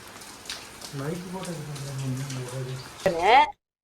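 Heavy rain pours steadily as a soft, continuous hiss in the background, mostly beneath a person talking, with a brief louder burst near the end before it cuts off.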